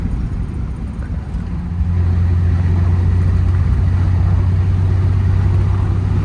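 A car engine hums with a steady low drone on a test drive with overdrive engaged, settling into a louder, constant cruising tone after about two seconds, heard from inside the vehicle.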